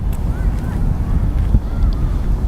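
Gusts of wind buffet the microphone with a low, rumbling roar that rises and falls unevenly throughout.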